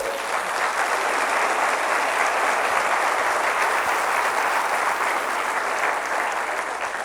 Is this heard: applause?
yes